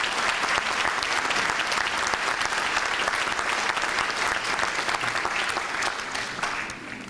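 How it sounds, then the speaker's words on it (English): A commencement ceremony audience gives the evening's speaker a round of applause, steady and dense clapping from a large crowd that holds throughout and eases slightly at the close. "please give me a round of applause to our speaker this evening"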